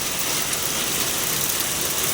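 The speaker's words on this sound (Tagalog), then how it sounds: "Umulan ng yelo." Hail pelts down in Riyadh, Saudi Arabia, a dense, steady broadband hiss of ice pellets striking surfaces, loud and continuous with no voices.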